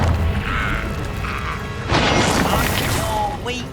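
Expelliarmus spell cast during Hogwarts Legacy combat on PS5: a sudden magical whoosh and bright crackling burst, preceded by booming, clanking fight noise and followed by shimmering tonal sparkle, fairly loud and close.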